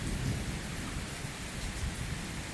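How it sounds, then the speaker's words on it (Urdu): Heavy pre-monsoon rain pours steadily on a farm in Pothwar, with low rumbles of thunder beneath the dense hiss of rainfall throughout. "زبردست قسم کی بارش ہو رہی ہے"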